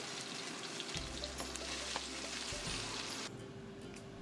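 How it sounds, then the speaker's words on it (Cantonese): Chicken wings half-deep-fry over medium heat, sizzling and crackling steadily in hot oil, with a low hum and occasional pops nearby. "用中火半煎炸咁樣將啲雞翼煎到金黃"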